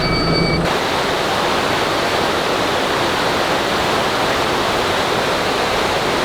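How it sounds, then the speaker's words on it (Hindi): Water released at full force for river rafting downstream near the Statue of Unity surges in a loud, continuous roar that fills the scene, after a brief tonal sound at the very start. "आप जो ये पानी देख रहे हो जो फुल फोर्स में जा रहा है"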